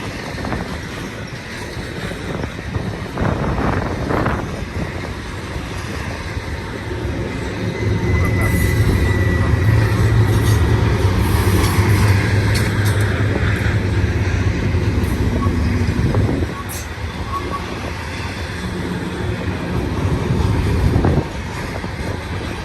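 A heavy freight train rumbles past continuously at Cajon Pass, California, with low grinding and rolling noise swelling in the middle, plus gusts of wind buffeting the microphone.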